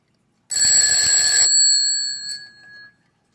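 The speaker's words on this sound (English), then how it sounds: "Those bells resonate for a long time." An antique sonic alarm clock strikes its bells in one bright, metallic ring after silence, followed by a long, clear resonating decay that fades out over about two seconds.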